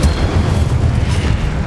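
Incendio fire spell cast in the video game Hogwarts Legacy, heard as a steady, loud, roaring whoosh of flame with deep rumbling underneath that holds for the whole moment without a break.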